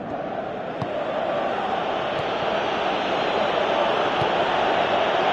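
A packed stadium crowd in the football video game PES 2017 roars as one steady, broad wash of noise that carries on unbroken throughout.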